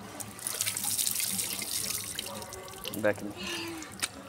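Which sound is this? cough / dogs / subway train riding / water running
water running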